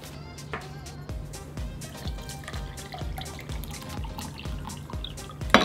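Tap water runs steadily into a sink while hands are washed, with soft drips and splashes falling in a loose rhythm and a sharper splash at the end, close and moderately loud.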